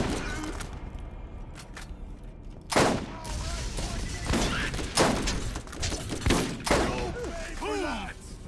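Gunfire in the video game Borderlands 1, with a handful of sharp shots at irregular intervals and one louder burst, set against a steady bed of game noise and voices.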